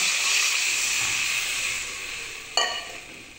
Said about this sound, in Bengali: লাল করে ভেজে নিয়েছি, এবার এর মধ্যে আমি জল দিয়ে দিচ্ছি।